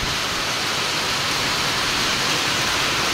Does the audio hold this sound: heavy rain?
yes